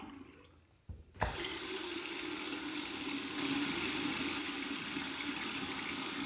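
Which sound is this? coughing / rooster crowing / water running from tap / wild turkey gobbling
water running from tap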